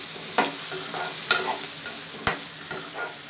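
Coriander leaves are sautéed in a pan for a chutney, with a steady sizzle under repeated scraping stirs of a spoon at a loose rhythm, heard close up and without talk.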